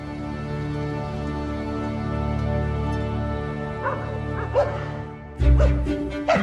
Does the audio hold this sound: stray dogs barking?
yes